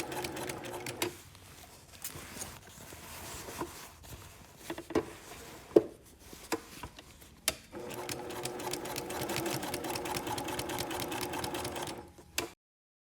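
A sewing machine stitches the sleeve seam of a casual shirt at a half-inch allowance, starting with short stop-start bursts and then running in one sustained rapid whirring stretch before stopping.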